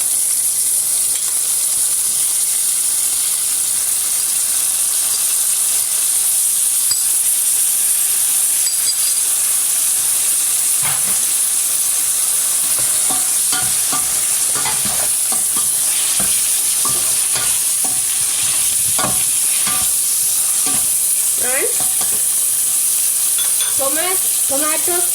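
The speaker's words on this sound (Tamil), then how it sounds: "நான் இப்போ வெட்டி வச்சிருக்கிற டொமேட்டோஸை போட போகிறேன்" Chopped tomatoes going into a pan of fried onions for a Tamil snoek fish curry, frying with a steady loud sizzle and hiss while a spoon scrapes and stirs in repeated knocks throughout.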